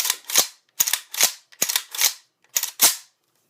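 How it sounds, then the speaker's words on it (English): An SKS rifle dry fired after reassembly, giving a close series of sharp, dry metallic clicks that arrive in quick pairs with brief silences between, and no talking. "make sure everything works, and dry fire one time."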